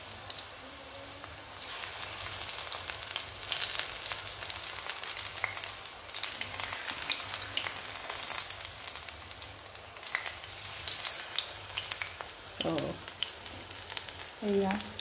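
Onion-leaf pakoras fry in hot oil with a steady, close crackling sizzle throughout, joined near the end by a few brief clatters, with no talk.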